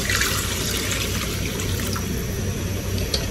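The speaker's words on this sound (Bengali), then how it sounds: "জল দিয়ে দিলাম পরিমাণ মতো।" Water poured into a cooking pot while pangas fish is cooked with water lily stems, a continuous close splashing pour that runs steadily through the whole stretch with no talking.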